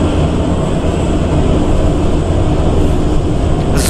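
Moscow metro E-type cars run along the line in a Roblox game, a loud, steady rumbling drone of wheels and motors that stays constant throughout, with no voices.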